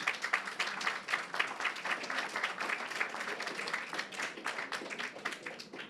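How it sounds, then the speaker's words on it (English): A conference audience applauds a panel, a crowd of individual claps heard fairly close, steady and continuous, fading slightly toward the end. "Please give them a round of applause."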